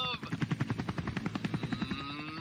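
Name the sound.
helicopter sound effect in radio traffic report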